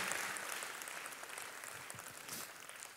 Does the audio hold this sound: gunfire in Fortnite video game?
no